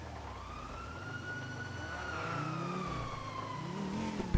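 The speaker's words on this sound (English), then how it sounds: "I hear the sirens are getting closer." Police sirens wailing in a video game, a steady rising-and-falling tone that grows slightly louder as it draws closer, with low engine rumble underneath and no talking.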